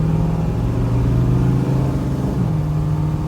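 A 1969 Chevrolet Camaro SS with dual exhaust is driven, its engine giving a loud, steady, close rumbling drone with a slight shift in pitch near the end.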